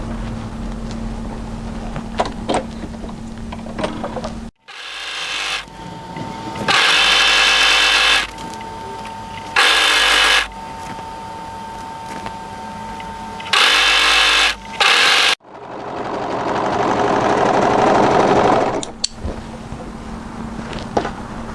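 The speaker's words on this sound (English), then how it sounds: "to overlock from here all the way around this curve" An overlocker runs around the curved seam of a coatigan hood, giving loud, close mechanical buzzing in several bursts of a few seconds each, separated by short stops, and ending in a longer continuous run.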